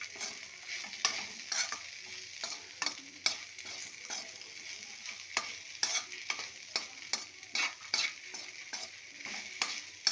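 Okra stir-fried in a pan over a low flame with chili powder, a steady soft sizzle broken by repeated scraping strokes of a spatula, close and moderately loud, with no talking.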